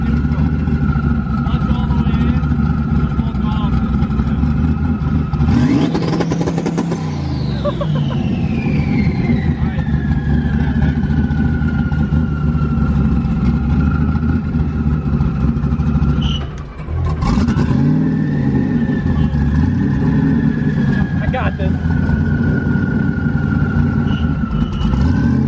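A single turbo BMW 335i engine roars at full throttle, with revs sweeping sharply upward, holding, then dropping and climbing again through a gear change, loud and continuous, with people talking over it.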